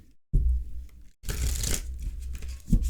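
Tarot cards riffle and slide sideways against each other in two bursts of rustling, close up, with a short pause between them.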